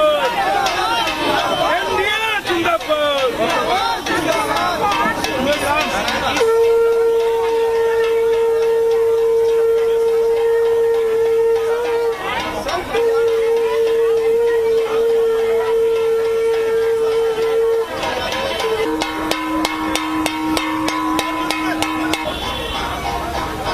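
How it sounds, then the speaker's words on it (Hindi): A long steady horn-like drone of a conch shell sounds repeatedly among a noisy crowd at a JDU party office on Bihar election results day, with drums, bells and chatter around it. "शंख की ध्वनि आपको सुनाई दे रही होगी"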